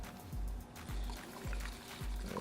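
Water trickles and pours into a pigment wash for painting a model building, a quiet close-up liquid sound with soft gurgles over faint rhythmic low thumps.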